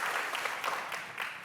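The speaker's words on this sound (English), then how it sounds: "Just clap a little bit if you yeah." Scattered applause from a startup conference audience, a faint, thin patter of a few hands clapping briefly at a distance, with no talk over it.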